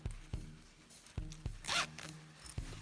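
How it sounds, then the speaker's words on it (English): Zipper on a crocheted pouch is run back and forth several times, close and crisp, short rasping pulls with clicks between them, no talking. "Make sure the zipper is working."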